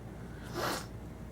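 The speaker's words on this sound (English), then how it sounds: "I'm really sorry that I'm like sniffling all over the place." A single short, breathy sniff through the nose, close and fairly quiet, rising and fading within about half a second.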